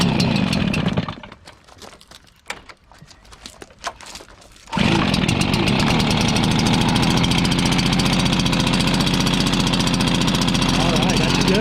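A Stihl BR450 backpack blower's small engine sputters in weak bursts after a pull, then catches abruptly and settles into a loud, steady buzzing idle that runs to the end, close to the listener.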